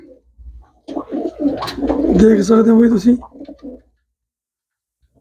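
Pigeons coo in a rounded, throaty burst lasting a few seconds, close and fairly loud, while someone speaks over the calls.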